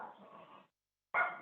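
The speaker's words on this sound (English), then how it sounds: "Sorry for my dog barking." A dog barks indoors, two short barks separated by a brief silence, the second one sharper and louder.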